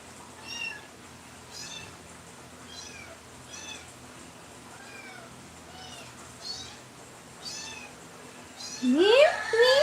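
A cat meows repeatedly in short calls spaced a second or two apart, moderately near, with a louder, rising cry at the end over a faint room background.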